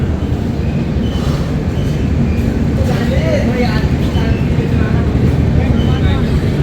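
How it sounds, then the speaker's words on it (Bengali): The Puri Garib Rath SF Express pulls away from Balasore station, giving a loud, steady rolling rumble and rattle of carriages that continues throughout, with muffled voices underneath. "বালেশ্বর থেকে ট্রেন ছেড়েও দিল 2 মিনিটের হল্ট দিয়ে"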